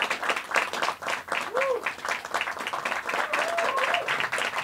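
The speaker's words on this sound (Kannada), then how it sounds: "ಚಪ್ಪಾಳೆಯೊಂದಿಗೆ ಸ್ವಾಗತಿಸಿ" Audience applause at a Kannada film trailer launch event as the director is welcomed onto the stage, steady crowd clapping throughout with a few brief cheers or whistles mixed in.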